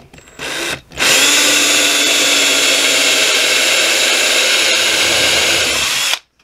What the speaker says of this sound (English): now I'm going to take a 3/8 drill bit like this one, and I'm going to drill this all the way through